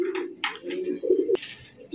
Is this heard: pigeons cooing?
yes